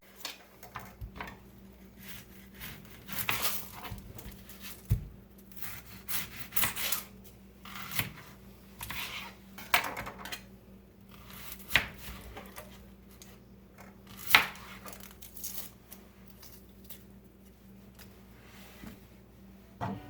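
A small knife slices vegetables for chow chow relish on a cutting board, irregular soft scraping cuts and light knocks in an uneven rhythm, close and quiet.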